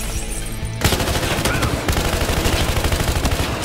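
Rapid gunfire rattles through a Battlefield Hardline firefight, dense overlapping bursts of automatic shots and impacts that stay loud and continuous after a brief quieter opening, with no voices.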